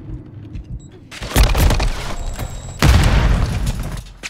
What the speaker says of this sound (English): That nade didn't go where it was supposed to go.